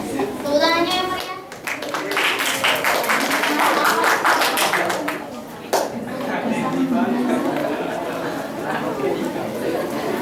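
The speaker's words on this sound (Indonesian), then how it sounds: "Tepuk tangannya yang meriah." Dense clapping from a crowd of high school students during a school practical exam fills most of the clip, with chatter and a voice mixed in; the applause stays steady and fairly loud.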